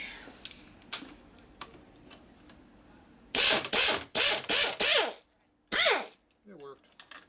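A half-inch ratchet wrench turns a nut on the main shaft of a Harley shovelhead transmission, giving several quick runs of sharp, close clicking separated by short pauses, with quiet handling noise before the first run.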